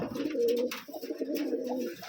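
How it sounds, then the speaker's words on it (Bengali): Large racer pigeons at a Rajshahi pigeon farm give steady, overlapping low coos, close and fairly loud, with a brief dip midway and no voices. "বিগ সাইজের রেসার কবুতর আছে।"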